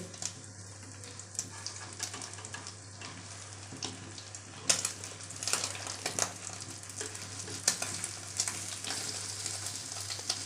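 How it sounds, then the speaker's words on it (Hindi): Egg shami kebabs cook over a low flame in a pan, giving off a steady soft sizzle and crackle with a constant low hum beneath and a few sharper spatters and clinks. "अब इनको हल्की आंच पे पका लेंगे।"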